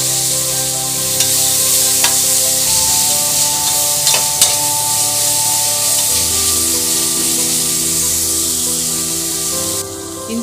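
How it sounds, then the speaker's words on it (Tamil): Onions fry loudly in hot oil as ginger-garlic paste is stirred in for a goat trotter paya, a close, strong sizzle with scraping stirs and spoon knocks against the pan, steady throughout and without voices. "இஞ்சி பூண்டு பேஸ்ட் போட்டு ஒரு வாட்டி நல்லா கலந்து விடுங்க"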